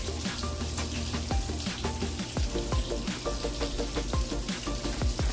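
Chicken frying in a pan on a home stove, a steady close sizzle and crackle with scattered pops and clatters of utensils, no voices.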